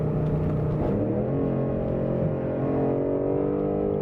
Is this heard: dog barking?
no